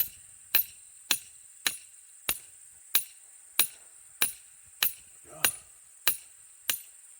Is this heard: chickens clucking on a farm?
no